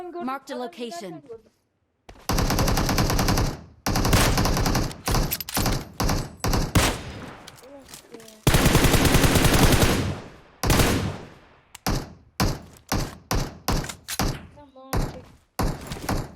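Gunfire in the battle royale game PUBG Mobile: loud, close bursts of automatic fire and rapid single shots in clustered volleys separated by short silences, the later shots coming in quick spaced pops.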